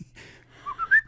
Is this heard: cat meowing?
no